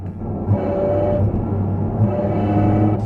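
A Porsche Cayman GT4 RS engine runs in a steady, loud roar with a deep low rumble and a faint metallic, grinding edge, holding even with slight swells and no talk.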